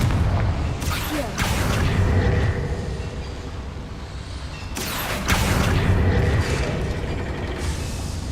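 Confringo spell blasts in Hogwarts Legacy, two loud booming explosions roughly four seconds apart, each a broadband burst over a steady rumbling game backdrop.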